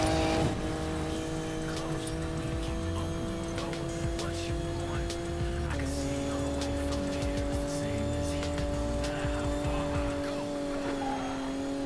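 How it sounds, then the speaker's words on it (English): In the Need for Speed Payback video game, a car engine drones steadily through a tunnel on nitrous, its pitch stepping up with gear changes, and the sound carries on continuously throughout. "Love hitting the nitrous when I'm going through a tunnel."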